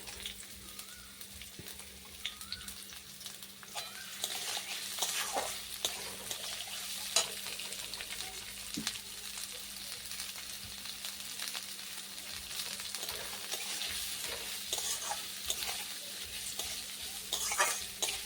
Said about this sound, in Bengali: এই গরম তেলে পেঁয়াজটা দিয়ে দিচ্ছি।